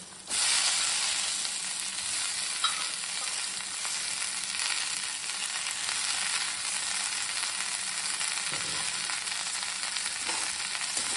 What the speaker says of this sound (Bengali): বরবটিগুলো আমি ভালো করে ভেজে দেবো।